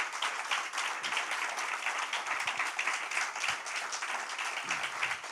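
A church congregation claps together in dense, continuous applause, steady and moderately loud for the whole stretch.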